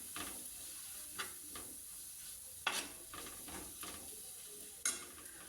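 Prawn roast being stirred and mixed in a pan, with soft scraping and occasional utensil knocks over a faint background hiss, quiet and close.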